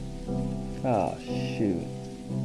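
Rain falling outside in the narrative video game Necrobarista, a steady soft patter running beneath music and a person speaking briefly.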